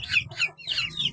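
Several young male chickens cluck and squawk in a brief burst of bird calls close by, in a backyard flock being given a deworming drink.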